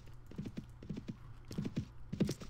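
Rhythmic horse hooves in the video game Mount and Blade: Warband clip-clop steadily at a walking pace, with a brief whinny-like sound mixed in, no talking.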